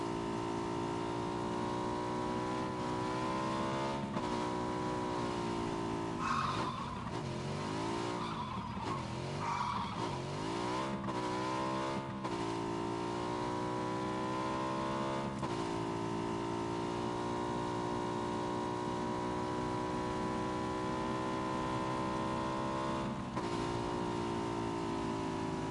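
Motorcycle engine droning steadily in a PS4 video game, with tires skidding and squealing in bursts over a continuous loud whine.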